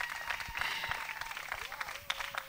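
Applause from a church congregation, a dense, steady patter of many hands clapping close by, with some brief cheers mixed in.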